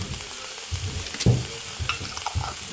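Minced garlic frying in a pan for bistec ranchero makes a low, steady sizzle, broken by a few close scrapes and knocks as it is stirred.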